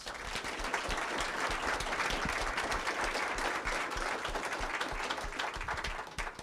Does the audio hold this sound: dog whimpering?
no